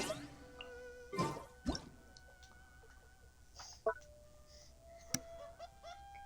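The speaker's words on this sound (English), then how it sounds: "a Candace of drips and drops can be heard bouncing from the bamboo leaves and hollow bamboo stalks" Raindrops drip from bamboo leaves and hollow bamboo stalks in a video game forest after rain, sparse plinks and plops of varied pitch falling irregularly against a quiet background.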